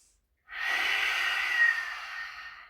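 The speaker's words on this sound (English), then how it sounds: "Really deep breathing here." A long, deep breath drawn during seated meditation in Gyan Mudra, a close, steady airy rush lasting about two seconds after a short silence, heard alone with no talk.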